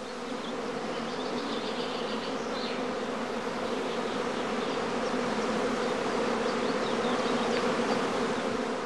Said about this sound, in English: the bees continue to move about restlessly while humming loudly